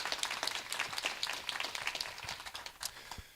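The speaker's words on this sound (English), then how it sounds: "we can applaud them" Audience at a computer science conference applauding an engineering team, a steady spread of light, fairly distant clapping with no talk over it.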